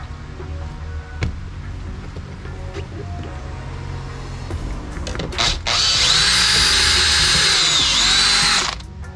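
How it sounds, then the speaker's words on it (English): A power drill bores a small hole for a set screw in a board rack. After a few seconds of low handling noise it starts up and runs as a loud, steady high whine for about three seconds, then stops. "I'm going to drill this little tiny hole in there"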